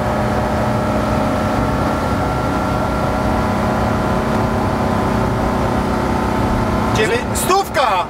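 An air-cooled engine in an old Volkswagen Transporter T2 van strains at full throttle on the road, a loud steady drone with a buzzing harmonic whine that holds throughout, and voices talk over it.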